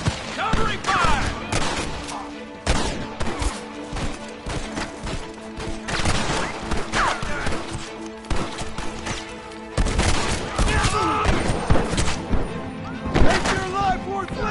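Sustained gunfire in Red Dead Redemption Remastered, dense volleys of rifle and gun shots with crashes and shouted voices mixed in, loud and continuous throughout the battle.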